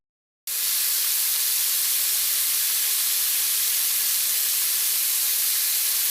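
One kilo of chicken frying in oil with garlic-ginger paste starts with a sudden loud sizzle that becomes a steady, close, hissing roar lasting several seconds.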